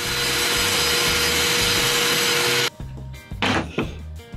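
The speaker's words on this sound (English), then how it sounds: "As you can see, I'm using my table saw with the crosscut sled." A table saw with a crosscut sled cuts through oak, a loud, steady whine of blade in wood for the first few seconds that stops abruptly, followed by quieter knocks and shuffling handling sounds.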